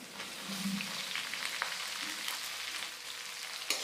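Steady close sizzle of sliced onions frying with garlic in hot oil for chicken handi masala, with a soft crackle and a few faint clinks, no talking.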